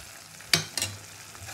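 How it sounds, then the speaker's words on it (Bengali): Spice paste with fried potatoes for katla fish curry sizzles in a pan, a soft continuous frying hiss broken by two sharp stirring scrapes close by. "দিয়ে মশলাটাকে খুব ভালো করে কষিয়ে নেবো।"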